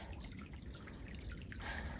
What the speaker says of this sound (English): You can just barely hear a little trickle from it